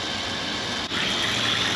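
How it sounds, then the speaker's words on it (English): Water rushing steadily out of a vehicle radiator being flushed of rust, a loud continuous gushing with a brief dip partway through and no voices. "you can see how clean the water is coming out right now"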